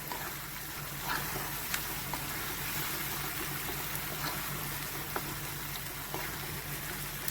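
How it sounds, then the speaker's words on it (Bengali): Mutton liver sautéing and frying in a pan for a Bengali liver kosha, a steady soft sizzle with faint crackles running throughout, moderately quiet and with no voices. "ভালো করে কষে নিচ্ছি।"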